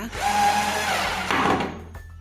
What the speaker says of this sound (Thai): ยิงสกรู ยึดตัวแป้นไม้ให้แน่นทั้งด้านซ้ายและด้านขวา